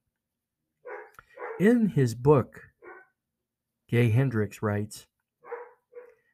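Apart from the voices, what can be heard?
dog barking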